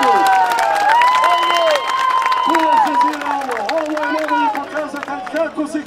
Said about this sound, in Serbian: pozovi publiku na aplauz, onda još jedan aplauz za ovu borbu